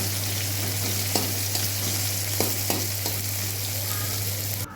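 Oil sizzles loudly and steadily as chopped onions fry, with a few soft scraping clicks of stirring and a low electrical hum underneath.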